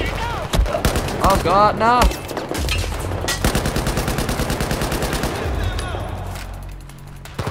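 Gunfire in Battlefield 4, loud rapid bursts of automatic shots and heavier reports overlapping, close and sustained, with a voice calling out over it briefly.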